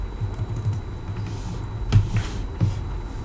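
Keys tapped on an iPad Pro Magic Keyboard in a quick, soft run of clicks with a couple of firmer presses near the end, close and fairly quiet, no speech.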